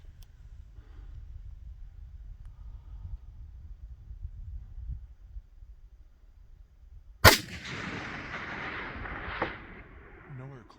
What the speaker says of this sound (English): Shoot when you're ready.